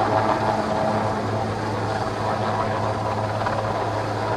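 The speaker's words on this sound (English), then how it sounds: "the hook which has been attached to the helicopter and will fly away" A Sea King helicopter's rotor drone during an Indian Navy show, a loud steady low thrum with a constant engine whine, sustained throughout without letup.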